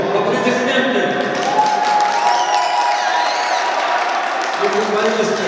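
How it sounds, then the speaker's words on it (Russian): Spectators at a futsal final in a sports hall applaud and cheer as a steady, dense crowd noise with whoops and voices mixed in, holding at a constant loud level throughout. "Аплодисменты!"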